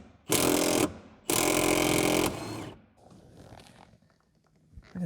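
An impact gun on truck body bolts fires two loud, sustained bursts, about half a second and one second long, followed by faint clanks and shuffling nearby.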